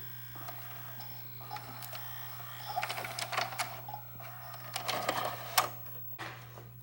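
The cassette deck of a Sony VCR/DVD combo unit runs through its eject cycle. Faint mechanical whirring and a series of clicks and clunks sit over a steady low hum.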